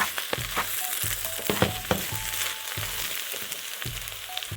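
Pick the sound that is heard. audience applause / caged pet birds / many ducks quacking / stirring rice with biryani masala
stirring rice with biryani masala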